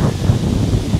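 Strong wind buffeting beside a river in Interlaken, Switzerland, a loud continuous low roar with gusty rumble across the microphone.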